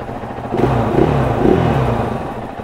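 KTM EXC-F 500 dirt bike engine running steadily during break-in, a close, continuous mid-pitched idle that swells slightly a couple of times with light throttle.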